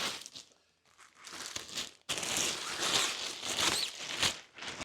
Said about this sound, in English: And I'll move this cardboard out of the way.